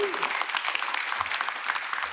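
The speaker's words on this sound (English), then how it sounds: "Let's give him a round of applause." Audience applause at a New York governor's press event for public advocate Jumaane Williams, a short burst of steady mid-loud clapping filling the room, with a voice trailing off at the start.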